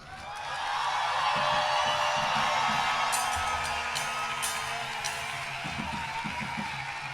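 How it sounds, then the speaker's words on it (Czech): A large outdoor crowd at a culture rally cheers, whoops and applauds for student speakers, the roar swelling quickly, then holding loud and sustained with scattered shouts and whistles throughout. "Můžu poprosit ještě jeden potlesk pro všechno studentstvo, co tady promluvilo."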